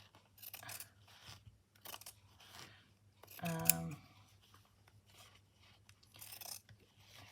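Scissors cutting quilt fabric, several quiet snips and rustles close by, with one clearer cut in the middle.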